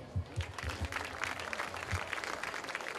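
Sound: applause

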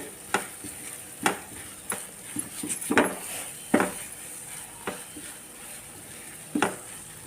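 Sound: pirandai thokku being sautéed and stirred in sesame oil

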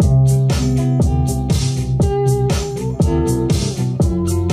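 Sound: lofi hip hop instrumental beat recreating Post Malone's Circles

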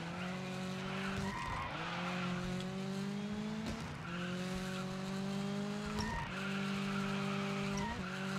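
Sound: car drifting and skidding in video game DIRT 5

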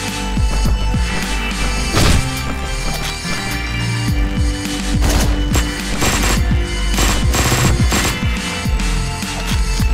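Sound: gunfire in the video game Hotline Miami 2

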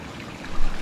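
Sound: spring water flowing from a cow-mouth spout at Raireshwar fort

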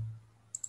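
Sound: mouse click on add button

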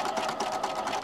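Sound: sewing machine stitching along a fabric fold

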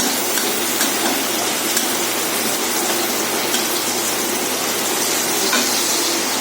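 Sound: heavy downpour of rain outside

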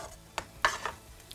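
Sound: fish sizzling in wood-fired oven

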